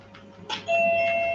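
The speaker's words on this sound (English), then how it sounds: "Doorbell." A doorbell rings once with a clear, sustained electronic tone after a brief soft knock-like sound.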